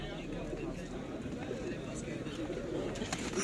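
Uzbek tumbler pigeons coo softly in the background amid a busy, murmuring crowd at an outdoor bird market in Edirnekapı, with people talking throughout.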